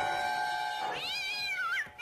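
A cat meows in a drawn-out, rising and falling call, close and fairly loud, ending with a brief second cry.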